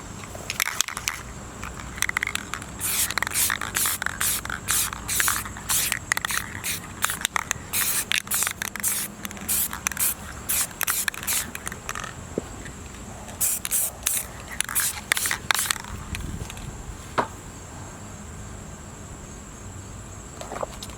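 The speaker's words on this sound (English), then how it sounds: "white spray paint. As you see that I did, it's a light coat." White spray paint is applied in light coats onto Adidas slides, heard as close, repeated short hissing bursts from the can with brief pauses between passes.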